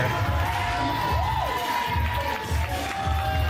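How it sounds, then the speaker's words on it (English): A live crowd at a wrestling show cheers and shouts without a break, loud and close, with whoops rising above the roar. "Crowd absolutely loves him, and with reason."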